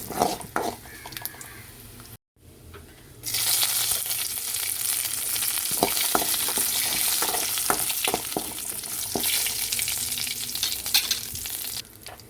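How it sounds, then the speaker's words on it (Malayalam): Mustard seeds, dried red chillies and curry leaves fry in hot oil for a Kerala coconut yogurt curry, with a loud, crackling sizzle and popping close by. A brief silent break interrupts the sizzle early on, then it continues steadily. "കടുക് പൊട്ടി വരുമ്പോഴത്തേക്ക് നമുക്ക് വറ്റൽമുളക് ഇട്ട് കൊടുക്കാം."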